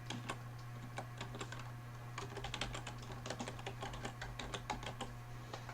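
An email address is typed on a computer keyboard: quick, irregular key clicks close by over a low steady hum, with brief pauses between bursts and no talking.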